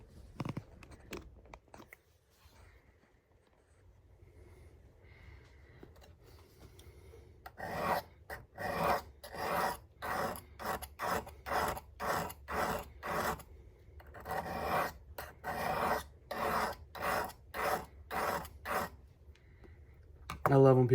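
Knife blade of a Civivi Nitro V with green canvas Micarta handle and gray stonewashed finish, freehand sharpened on a stone: repeated rhythmic raspy strokes in bursts, close and fairly loud, after a quieter start with faint sounds.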